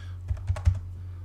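Three quick keystrokes tap on a computer keyboard while entering numbers in AutoCAD, close and fairly quiet, over a low steady electrical hum.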